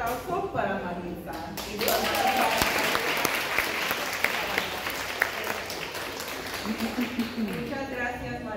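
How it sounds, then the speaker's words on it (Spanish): Audience applause at a Spanish-language Eucharist retreat, a long spell of clapping that swells after a brief opening voice, with a few louder individual claps, and a voice rising again near the end. "Un aplauso para Marisa."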